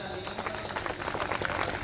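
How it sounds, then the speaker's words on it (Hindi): Crowd applause at a community function in Nawada, India, a dense burst of many hands clapping at a moderate level, slightly distant and continuous, with some voices mixed in. "जोरदार तालियां।"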